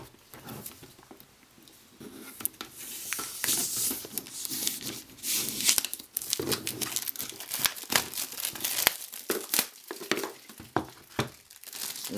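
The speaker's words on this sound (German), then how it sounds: "Als erstes entferne ich natürlich erst einmal die Folie" Plastic film is peeled and torn off an album box, with close, crisp crinkling and tearing in irregular bursts that grow busier as it comes away, with no one talking.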